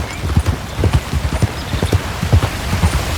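Horse hooves clip-clopping steadily during a ride in the video game Red Dead Redemption 2, a brisk repeating rhythm of close, loud hoofbeats with no talk over them.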